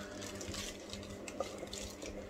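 Small air bubbles rise from aquarium stones in a water tank, a steady soft trickle and bubbling with a constant low hum underneath, close by and fairly quiet.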